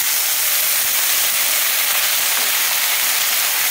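Beans, eggplant and potatoes sizzling in a pan with browned onions, a dense, loud, continuous hiss of frying throughout, without speech.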